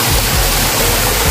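A mountain waterfall thunders in a steady, loud, unbroken roar of rushing water, close by and with no voices.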